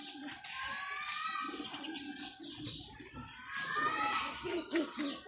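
Pigeons cooing close by in a loft, a steady murmur of soft calls over several seconds with a voice speaking over them.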